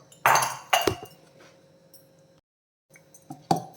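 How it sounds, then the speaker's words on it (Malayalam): A spoon scrapes and clinks against a bowl while salt is stirred into horsegram dosa batter, giving a few close, sharp metallic taps and scrapes separated by short quiet gaps. "ഉപ്പും കൂടെ ഇട്ടിട്ട് നമുക്കൊന്ന് ഇളക്കാം"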